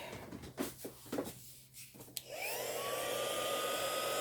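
A heat gun drying an art journal page. A few light taps and handling sounds lead into a loud, steady rushing whir with a thin whine that runs without a break to the end.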